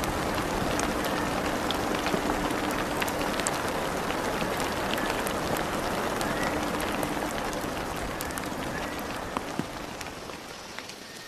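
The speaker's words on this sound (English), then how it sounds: "The rain softens the soil and revives the land." Steady rain falls on the floor of a tropical island forest, a dense continuous patter of drops with occasional sharper nearby hits, fairly loud and unbroken throughout with no voices.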